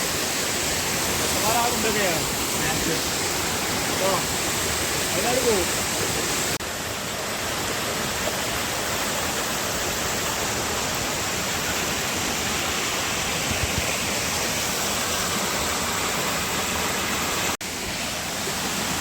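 A small waterfall, Kollamkolli in Nilambur, pours in the rain as a steady, close rushing roar that continues unbroken, with a few faint voices briefly audible early on.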